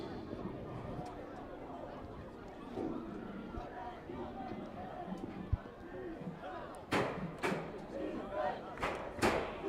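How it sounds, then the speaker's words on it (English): A crowd at a high school varsity football game between Swampscott and Danvers rumbles steadily in the distance, swelling into louder cheering and shouting toward the end, with a few sharp knocks and announcer-style talk over it. "You can hear the crowd starting up again with defense coming from the Swampscott side."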